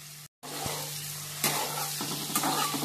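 Paneer pieces sizzle steadily in a pan as they are lightly fried, a dense, continuous hiss with a low hum beneath and a couple of louder crackling surges.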